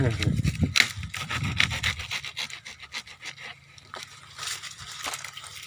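Rough rasping and chopping as a sugarcane stalk is cut through, a few scraping strokes up close, then lighter rustling with people talking.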